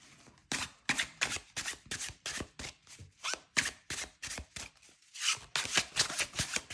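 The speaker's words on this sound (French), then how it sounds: "on va tirer 2 cartes avec le Photomwise Tarot que vous avez choisi" Tarot cards being shuffled and drawn, a steady run of crisp riffling flicks and slaps repeating in quick rhythm, close and clear with no talking.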